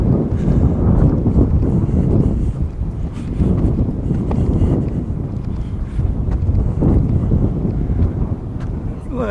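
Cold, gusty wind buffets a microphone outdoors near railroad tracks, a loud, uneven low rumble that swells and dips throughout with no voices.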